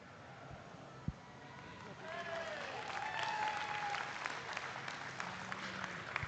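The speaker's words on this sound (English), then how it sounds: "let's give these kids a nice round of applause" A crowd at a 4-H junior beef showmanship ring at the Nebraska State Fair applauds the kids, scattered clapping swelling into a fuller round and then thinning, with a thud near the start and faint voices and whistles in the background.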